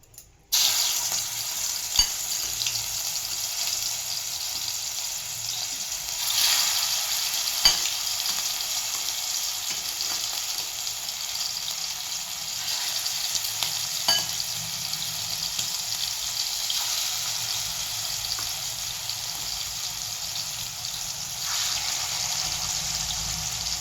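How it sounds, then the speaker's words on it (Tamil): Chicken frying in sesame oil for a fried chicken gravy, a continuous bright sizzle and crackle held at an even level for the whole stretch, with a few faint clicks. "இப்போ நம்ம சிக்கனை நல்லா ஃப்ரை பண்ணிக்கலாம்."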